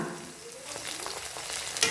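Chopped capsicum and green chili fry in a pan with sugar, a steady hissing sizzle with soft stirring scrapes and a brief louder clink near the end; no voices.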